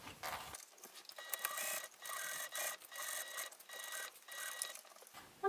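A sewing machine stitches binding onto a small fabric pouch, whirring faintly in short repeated runs with brief pauses between them, close and quiet with no talking.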